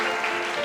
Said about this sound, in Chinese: 再次拍手欢迎这几个家庭